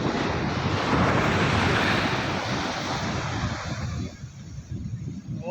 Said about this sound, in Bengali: এই যে আমরা সমুদ্রে শুধু হাওয়া খাচ্ছি